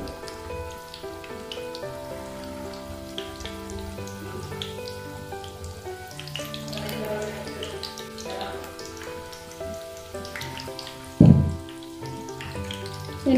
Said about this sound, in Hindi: ये जैसे ही अच्छे से फ्राई होते चले जाएंगे ये ऊपर आ जाएंगे एकदम